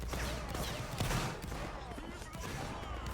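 Reenactment infantry firing muskets in a Napoleonic-era battle, dense overlapping shots crackling in a ragged volley, loud and close, with voices shouting commands over the gunfire.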